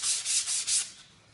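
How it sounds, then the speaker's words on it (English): A sanding sponge lightly scuffs a primer coat in a few quick back-and-forth strokes, a close, soft, hissing rasp that fades out. "give it a light cut using one of these sanding sponges now"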